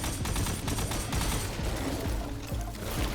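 Minigun fire in the Destiny 2 video game, rapid dense bursts of shots rattling loudly and continuously through the short moment alongside other gameplay noise.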